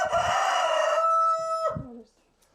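A rooster crows loudly and close by in one long, drawn-out call, trailing off into a short cluck.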